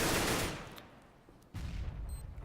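FAMAS rifle fire in a pro Counter-Strike match on the Cache map: a loud, close burst that quickly decays, then a second sharp volley after a brief lull.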